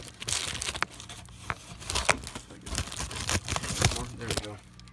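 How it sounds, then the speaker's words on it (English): Someone cuts open a plastic package of RC truggy parts, producing close, uneven crinkling and tearing of plastic in short bursts, with a voice talking alongside. "I'm just going to cut it open enough to where I can get the pieces out."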